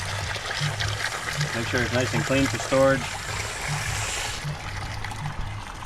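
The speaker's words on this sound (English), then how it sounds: "Flush the water jackets out with the garden hose." A garden hose runs water through the engine water jackets during a 350 to 455 swap on a 1990 Buick Estate Wagon, a continuous trickling, splashing flow under a man's speech.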